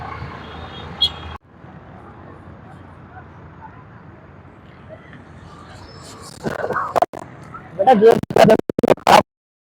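Afternoon road traffic around the Power House area of North Karachi District Centre, a steady broadband rumble of passing vehicles with a brief gap, then louder close clatters and bursts near the end.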